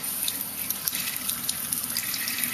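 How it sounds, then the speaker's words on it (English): Cool tap water running over an art paint brush at a sink, a steady splashing stream with small bright droplet spatters throughout, fairly close and alone. "Use cool water to rinse your brush clean."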